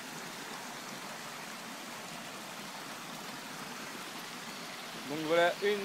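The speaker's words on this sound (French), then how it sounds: "voilà une petite rivière, la rivière David, du petit David" The Rivière David, a small river in a Guadeloupe forest on Basse-Terre, flows with a steady, soft hiss of water that lasts throughout, and a few words come in briefly near the end.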